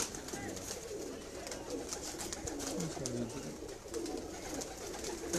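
Pigeons of a breeding flock coo in soft, repeated rolling calls, several birds overlapping at close range, with some faint background noise.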